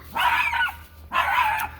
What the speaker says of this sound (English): Very, very noisy puppy. Barks at me every time I walk by the fence.